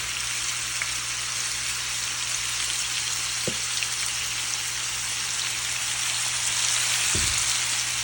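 Pork sizzling steadily in a pan after salt and black pepper, a dense, continuous frying hiss at an even level, with a couple of brief low knocks near the pan and no talking.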